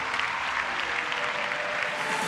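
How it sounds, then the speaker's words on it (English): Crowd in Turin applauding a home tennis favourite holding up the trophy at a tennis tournament, dense continuous clapping with cheering, loud and steady throughout. "The people of Turin roared with approval as the home favourite displayed the trophy for the fans"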